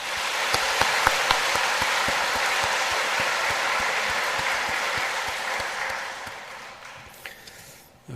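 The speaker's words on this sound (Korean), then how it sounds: "하나님께 영광의 박수를 올려드리겠습니다" A large church congregation claps steadily in sustained applause during a Sunday service, dense and even, fading out toward the end.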